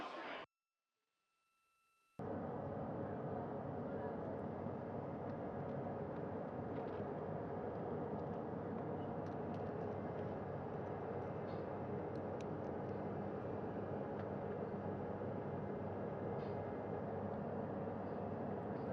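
Navy helicopters hover during the Artemis II crew recovery at sea, a steady, loud broadband rotor and turbine roar that runs continuously after a brief drop-out at the start, with no other sounds breaking through.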